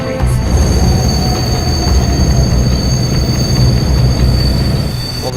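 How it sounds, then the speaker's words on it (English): Emergency braking of a train in Philadelphia, with steel wheels squealing in a steady high-pitched whine over a heavy, continuous low rumble, loud and close throughout. "Vengeance crew immediately threw on the emergency brakes."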